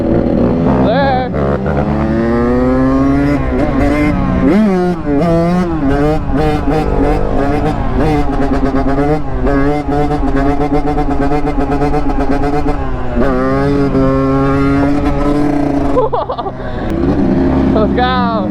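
Dirt bike engines, an RM85 and a CRF150, rev and scream through gears in a drag race, loud and close with rising and falling pitch sweeps, with people talking and shouting over them.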